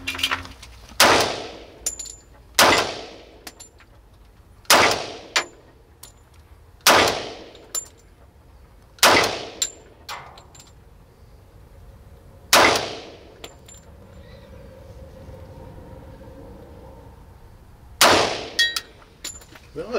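A SIG Sauer P220 pistol fires about eight loud, sharp shots at irregular intervals, with longer pauses between the later ones and only quiet background between reports.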